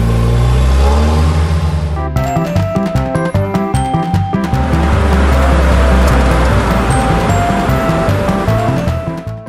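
A toy car from a plush Peppa Pig set revs steadily and loudly throughout, with clicking and rattling mechanical ticks layered over the drone.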